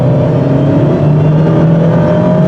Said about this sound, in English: once this engine gets running at high speeds, it's one of the sweetest power plants I've ever heard.